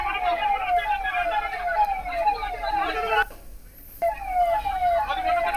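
Wailing emergency sirens from ambulances, fire brigade and police at an Air India plane crash site in Kerala sweep up and down continuously and loudly, briefly dropping out before resuming.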